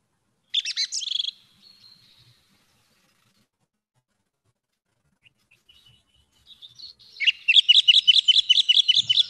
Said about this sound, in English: what you heard actually, is a bird chirping